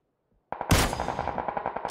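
Shots ring out in a Faceit competitive shooter game after a moment of silence: one sharp, loud report followed by a quick burst of rapid fire with echoing tails, all fairly close and with no voices.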